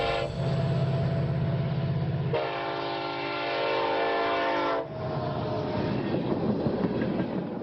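Oil tank trains of up to 118 loaded cars moving through a port terminal in Trenton, North Dakota: a loud sustained horn with a shifting chord, followed by heavy rumbling and rattling of rolling cars.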